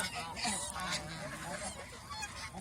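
Several geese honk repeatedly on a goose farm in Mohanganj, Netrokona, a cluster of overlapping nasal calls heard at a modest distance.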